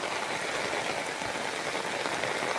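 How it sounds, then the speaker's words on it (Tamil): Dense, steady hiss of rain pouring down, constant and close with no pauses. "எங்கள் ஊரில் செம மழை"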